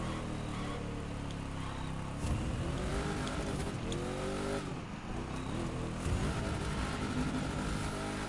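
A Chevrolet Camaro racing in The Crew 2 roars steadily with a loud, continuous engine drone, rising and falling through gear shifts and revs with no talk over it.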